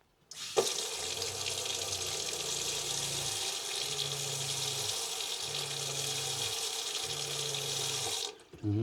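An old water pump, refitted and prone to pressure trouble, runs with water gushing steadily from the outlet while a low motor hum cuts in and out in regular pulses, about four cycles before the flow stops.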